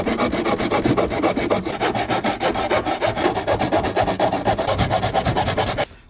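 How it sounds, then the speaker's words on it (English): Homemade Sawzall blade rasping through a plastic coin tray in a KRX during a custom double-DIN stereo install, a steady, close, rapid back-and-forth scraping that runs without pause and stops abruptly near the end. "with a little bit of homemade Sawzall blade, razor blade, and my grinder, I cut out the top of the coin tray"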